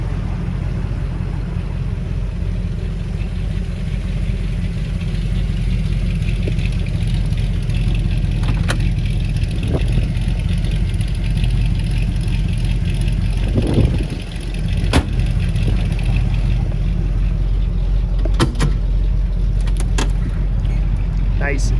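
A 1962 Chevrolet Corvette convertible with a 327 V8 rated 250 hp and a four-speed, driving down the road; a loud steady low engine drone and road rumble fill the whole stretch, with a few brief knocks.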